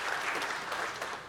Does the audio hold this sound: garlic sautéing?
no